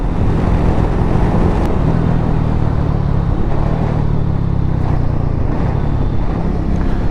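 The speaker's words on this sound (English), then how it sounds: "This is a peachy fun little engine." Steady engine drone of a Triumph Speed 400 motorcycle while riding, a continuous low hum mixed with heavy wind rush across the microphone throughout.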